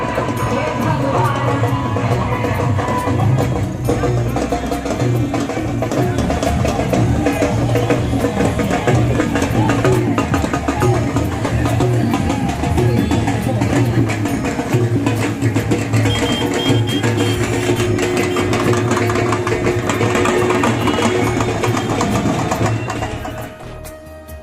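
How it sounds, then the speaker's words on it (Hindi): Motorbike procession at a Sawan festival, with loud DJ music blaring continuously and engine noise and crowd sounds mixed in, dense and steady throughout before fading at the end. "बड़ा डीजे लगाए हुए हैं, जोर शोर से गाने चल रहे हैं और बाइक पर जुलूस निकल रहा है"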